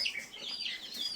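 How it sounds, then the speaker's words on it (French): Laying hens, including purebred Araucana, cluck and chatter softly in short, high, overlapping calls, several birds close by against an otherwise quiet background. "Donc c'est tout des poules pondeuses."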